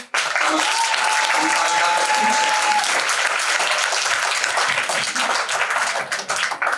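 Audience at an award ceremony breaks into loud, sustained applause, dense clapping filling the hall for several seconds, with a faint tone and voices underneath.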